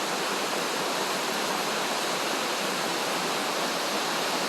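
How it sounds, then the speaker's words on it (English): Heavy storm rain pours down as a dense, steady broadband hiss with no breaks, loud and close, with no voices present. "Well, it's raining."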